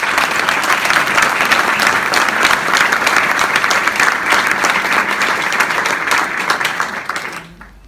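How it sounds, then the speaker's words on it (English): Sustained applause from a conference audience welcoming a speaker to the stage, dense steady clapping that holds for several seconds, then fades out. "Please give him a big applause."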